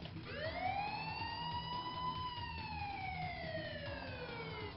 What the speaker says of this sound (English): what can you expect from a police car, really?